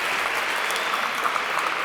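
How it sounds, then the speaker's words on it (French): Applause at the close of a women's padel quarter-final in Perpignan, a steady dense clapping from a small crowd, moderately loud and uninterrupted. "Elles applaudissent"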